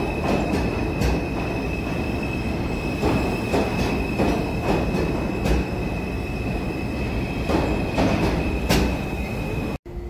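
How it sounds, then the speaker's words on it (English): A New York subway A train rumbles past close by, wheels clattering and squealing over the rails in a steady, loud roar. "See, that's an A train, man."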